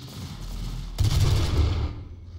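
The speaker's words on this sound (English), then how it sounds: "It sounds like something shooting at me as well." Enemy gunfire in the video game DOOM, a dense rumbling barrage of low booms and rattling shots that swells loudly partway through and then fades out.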